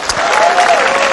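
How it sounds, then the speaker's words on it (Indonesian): Audience applause at the unveiling of the new TVRI logo in 2019, dense steady clapping from a crowd, loud and close, with a faint voice behind it. "Tepuk tangan untuk TVRI."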